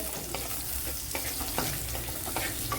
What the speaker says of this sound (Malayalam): ഇതിനെ ഒന്ന് വഴറ്റിയെടുക്കുക